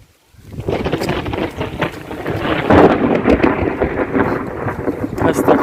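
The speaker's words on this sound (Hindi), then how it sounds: "तो ये देखें जैसे अब बादल गरजा है, इससे ज़्यादा आवाज़ में पहले गरजा था" Thunder rolls over a Punjab village in Pakistan during a heavy downpour, a long deep rumble building after a brief quiet start, layered with hard steady rain and some wind buffeting close to the microphone.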